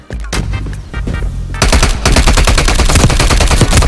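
Dense automatic gunfire in the video game Black Ops Cold War, sparse shots at first, then a loud, continuous rapid burst of close-range fire filling the rest, with no talking.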